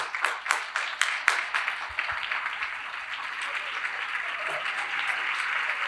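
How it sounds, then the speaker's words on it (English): An audience applauds at the inauguration ceremony of a school youth festival, opening with distinct sharp claps that swell into steady, dense applause filling the hall at moderate loudness. "Let's have a huge round of applause as we mark the inauguration of this confluence of young talents, the Aloysian Fest 2023."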